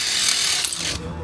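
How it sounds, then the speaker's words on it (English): An impact-rated tap driving through metal to cut a thread: a steady, close mechanical whirring and rattling that cuts off abruptly near the end. "We can even tap the thread."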